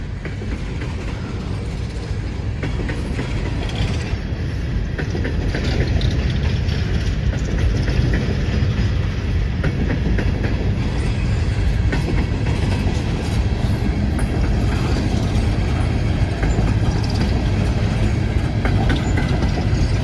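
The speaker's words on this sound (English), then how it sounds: "Still no end of train yet" An empty BNSF coal train rolls past close by, a loud continuous rumble with rhythmic clickety-clack of wheels over rail joints and faint squeal, steady for the whole stretch with no talking.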